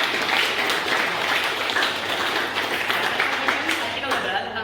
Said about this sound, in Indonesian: Boleh kasih tepuk tangan buat kita semua.